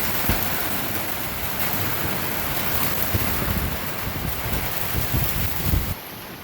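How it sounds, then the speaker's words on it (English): Steady rain at a rodeo pours down in a dense, continuous hiss with wind buffeting close to the microphone, loud and unbroken throughout. "yeah, it's raining."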